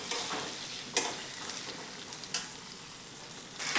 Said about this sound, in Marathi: बघा, आपले मटार चांगले असे तेलात वाफवलेत।